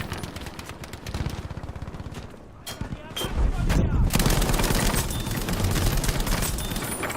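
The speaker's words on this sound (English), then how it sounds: "why I love light machine guns" Sustained bursts of light machine gun fire in Battlefield V, rapid rhythmic shots that thicken into dense continuous gunfire with other weapons and battle noise around it, loud and close.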